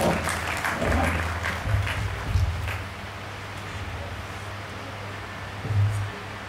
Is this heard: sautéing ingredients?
no